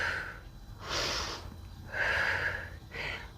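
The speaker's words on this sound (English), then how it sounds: "We're breathing." Slow, deliberate breaths during a yoga-inspired calisthenics strength and mobility workout at home, several audible inhales and exhales close to the microphone, fairly quiet and with no talk.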